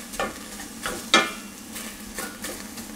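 Chopped onion sautéing in a pan over high heat, a soft steady sizzle broken by a few sharp scraping stirs and clinks, close and fairly quiet with no talking.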